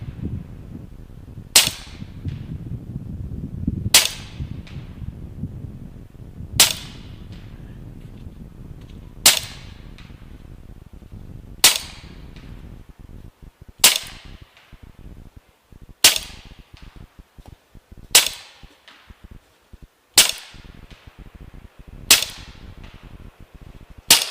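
Ten sharp rifle shots from an LCS SK19 .25 caliber air rifle, fired one at a time at a steady pace of roughly one every two to three seconds, each crack followed by a brief fading tail, with no voices.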